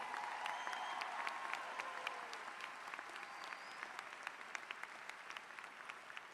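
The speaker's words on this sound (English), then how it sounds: "let us give everyone here a round of applause" A commencement crowd claps steadily, a dense patter of many hands that thins slightly toward the end, heard from some distance.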